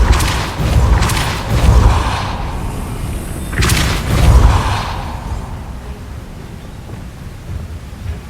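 Repulso spell cast in Hogwarts Legacy: two heavy booming thumps, one at the start and one at the midpoint, each a deep burst of force that fades into a soft rushing tail.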